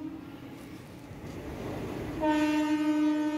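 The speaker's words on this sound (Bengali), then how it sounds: "আমাদের চোখের সামনে দিয়ে একের পর এক ট্রেন বেরিয়ে যাচ্ছে" A train at a railway station rumbles past steadily, then a loud sustained horn sounds near the end, close and alone without talk.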